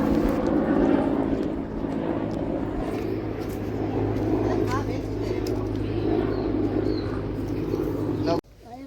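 A helicopter flies low overhead near a farm, its engine drone loud and sustained for several seconds, with people talking beneath it, before it cuts off abruptly at the end.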